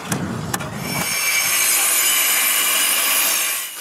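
A saw cuts through wooden deck bench boards to trim them to length. A few sharp knocks come first, then a steady, loud, close rasp of cutting that runs for about three seconds.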